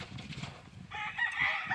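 Backyard hens cluck and murmur close by in a short burst, with a brighter, busier stretch of chatter in the second half.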